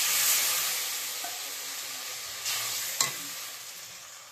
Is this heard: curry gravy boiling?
yes